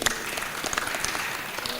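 A crowd at a Meru factory visit by a Cabinet Secretary gives dense, sustained applause that fills the short stretch evenly, with no speech over it.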